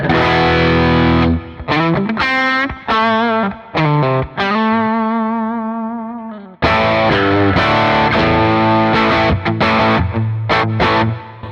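Heavily overdriven electric guitar through an EP booster into a 1998 Matchless Chief 100 and Marshall amps plays chords and sustained notes, thick and saturated, with a long ringing held chord midway.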